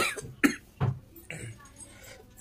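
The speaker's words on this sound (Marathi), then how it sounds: "खोकतोय एवढा तू, काय झालं तुला प्रॉब्लेम?" A man coughs several times in short, harsh bursts spaced across a couple of seconds, the last one loud at the very end, with a faint voice in the background; the cough has lasted eight days.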